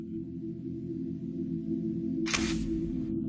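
A camera shutter opens with a single brief, bright mechanical snap about two-thirds of the way in, heard over a steady low hum in a darkened room during a high-speed photography experiment.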